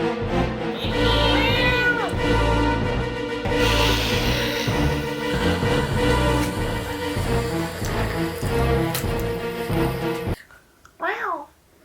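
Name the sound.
cat meowing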